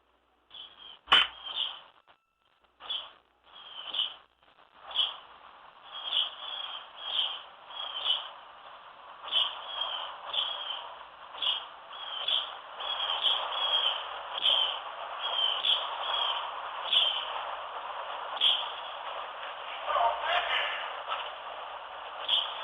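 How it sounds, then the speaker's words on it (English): Birds chirp repeatedly in the background of a played EVP recording from a ghost-hunting session, a bright, rhythmic series of calls that thickens into a steady chorus. "That's actually birds. That's not crickets."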